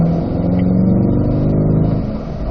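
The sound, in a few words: Corvette C8 engine accelerating on racetrack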